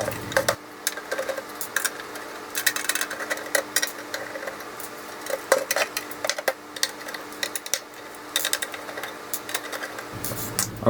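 Small screws being removed from a Tekpower TP3010E switching power supply case, with a steady run of close metallic ticks, clicks and rattles as a screwdriver works and parts shift, no talking.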